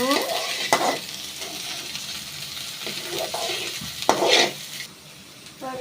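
Onions with curry leaves frying in hot oil in a pan, a steady close sizzle with stirring scrapes and a few louder clanks of the spoon against the metal.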